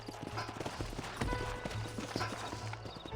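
Horse hooves clip-clop steadily through the Red Dead Redemption video game, a busy layer of repeated hoof strikes under low rumble and ambient game sound, with no talking.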